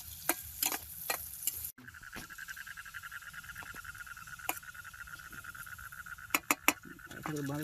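Noodles frying for egg chowmein in a pan at a riverside campsite, with a soft sizzle and sharp spatula clicks against the pan, while insects trill steadily nearby and a voice speaks briefly.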